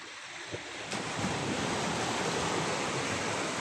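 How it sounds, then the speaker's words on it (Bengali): Sea waves breaking at the feet on a beach at Kuakata at midnight, a steady loud roar of surf washing in with wind noise, close and continuous after a brief quieter start; no talking. "সমুদ্রের ঢেউ পায়ের কাছে বাড়ি খেতেছে।"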